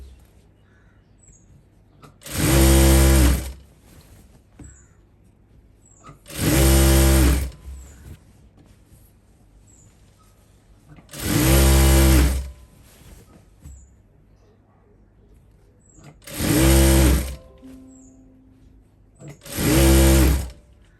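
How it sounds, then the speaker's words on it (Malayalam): A sewing machine stitches a nightie in five loud, steady bursts of about a second each, separated by quiet pauses while the fabric is repositioned. "ഇതൊന്ന് ഇങ്ങനെ ഒന്ന് തയ്ച്ചെടുക്കുമ്പോൾ നമ്മളുടെ നൈറ്റിയുടെ ഫുൾ സ്റ്റിച്ച് കഴിയും"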